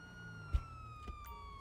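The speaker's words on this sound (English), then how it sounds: "Lights in your sirens." Police car siren in the GTA 5 video game with the LSPDFR mod, a steady wailing tone held throughout at low level with a couple of soft thumps, no talking.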